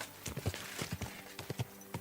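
Horse hooves clip-clop in an irregular, fairly close rhythm in the medieval game Kingdom Come Deliverance 2, about a dozen uneven strikes over steady background ambience.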